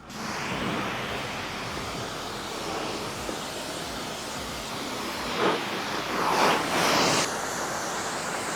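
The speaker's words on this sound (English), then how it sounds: "Give it a little rinse." A stainless steel Cybertruck being rinsed with water during detailing, a steady broadband hiss of spray hitting the panels with louder bursts near the end, no talking.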